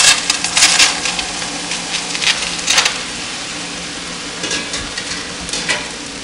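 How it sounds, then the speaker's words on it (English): Dry noodles being added to a pot for beef stroganoff, heard as bursts of crisp rattling and clattering, loudest at the start and near the end, over a quiet background. "We're going to start by adding our noodles to the pot."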